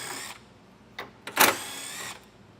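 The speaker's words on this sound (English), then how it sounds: "Then we'll take a 10mm socket, remove the 4 screws that are holding the top of our grill on." A 10mm socket works loose the four screws holding the top of the grille on a 2022 Chevrolet, giving a few short, close mechanical bursts of tool noise against a quiet background.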